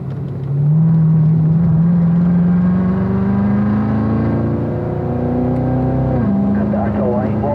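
A race car on the Spring Mountain track starts with a loud engine roar that climbs steadily in pitch under acceleration, drops sharply on a gear change and then keeps droning close and strong.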